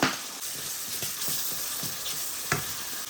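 Fish sizzling steadily in hot oil in a pan, with garlic paste added, a continuous bright hiss broken by a few soft taps of stirring and a louder clack near the end, no voices.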